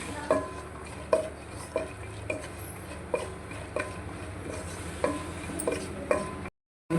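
Chopped cashews and almonds fry in hot ghee in a pan, a soft steady sizzle broken by regular scraping stirs and light clinks about every half second, then a brief silence.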